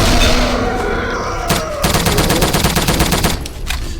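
Rapid machine-gun bursts of bullets fired in a video game, loud and close, in a dense rattling stream that ends abruptly before a brief quieter tail.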